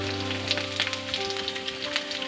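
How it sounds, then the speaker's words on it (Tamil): Raisins sautéing in hot oil with dried red chilies, curry leaves and a pinch of asafoetida give off a soft, crackling sizzle with scattered pops over a low steady hum; no one speaks. "இந்த திராட்சை வந்து நல்லா உப்பி வர அளவுக்கு இதை வதக்கி விட்டுருங்க"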